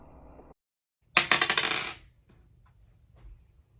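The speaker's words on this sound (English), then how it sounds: "Let's go ahead and roll the dice." Dice clatter across a hard surface in one quick rattling burst of rapid clicks that settles within about a second, heard alone after a moment of quiet.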